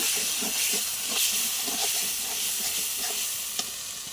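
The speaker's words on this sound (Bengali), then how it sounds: "কাশ্মীরি গুঁড়ো লঙ্কা দিয়ে নাড়াতে থাকবো।" Prawns frying and being stirred with turmeric and Kashmiri chilli powder in hot oil, a continuous hissing sizzle with soft scraping strokes and a single sharp clink near the end, close by and alone.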